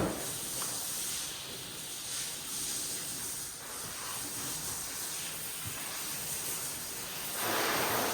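A hose sprays water over a car in a continuous hiss that rushes on steadily, rinsing away a rinseless wash and coating product, swelling slightly near the end.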